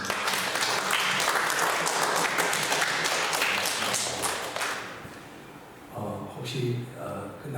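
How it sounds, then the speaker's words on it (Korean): A small church congregation claps to welcome two first-time visitors at a worship service, brisk close clapping for about five seconds that fades out, followed by a voice speaking. "박수 한번 했으면 좋겠습니다."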